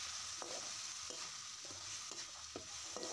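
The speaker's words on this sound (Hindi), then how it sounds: "पलटे की हेल्प से अच्छे से मिक्स करेंगे इसे इसे थोड़ा सा पका लेंगे" Onion paste cooking in a frying pan for a green pea curry, stirred with a spatula in several distinct scraping strokes over a continuous low sizzle, close and fairly quiet, with no talking.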